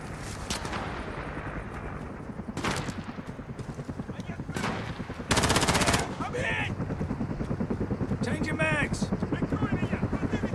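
Helicopter in Call of Duty Modern Warfare multiplayer on the Pitch Black map, a rotor drone under bursts of gunfire and loud explosions, with a player talking over the action.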